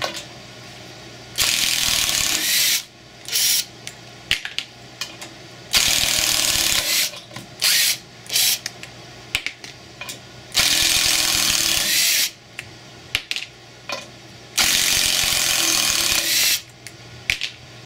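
A Makita impact driver backs screws out in about eight loud, close bursts of rapid hammering rattle. Each burst is separated by a brief pause.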